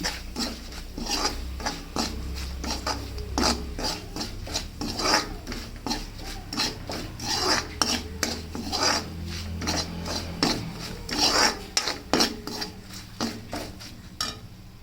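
Steady scraping and rasping of a utensil stirring spices dry-roasting in a pan, with repeated strokes throughout and no talking.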